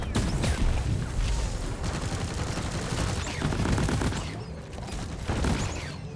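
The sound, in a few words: airstrike explosions and gunfire in video game Deep Rock Galactic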